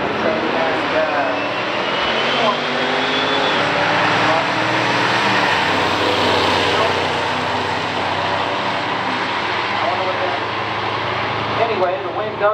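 A 1979 Dodge Lil Red Express and a 1965 Ford Galaxie race side by side, a loud, steady engine roar filling the whole stretch with a dense, even rumble and no gaps.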